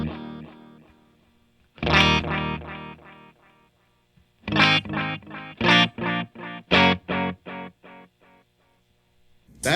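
A guitar runs through a Boss RE-202 Space Echo pedal set to its aged tape mode, with distorted chord stabs and choppy strums, each trailed by warbling, repeating echoes that fade out, alone with no talking.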